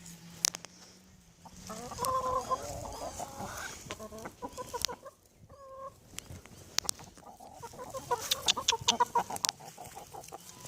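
A rooster and his hens cluck and chatter while feeding, with scattered close calls and soft pecking sounds coming in irregular bursts over a quiet background.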